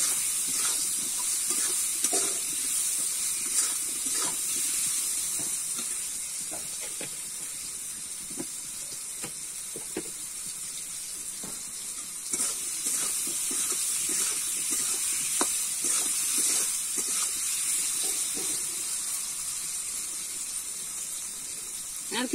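Telakucha (ivy gourd) greens frying in a pan with salt and turmeric, stirred: a steady broad sizzle and hiss runs throughout, with scattered scraping clicks of the spoon against the pan.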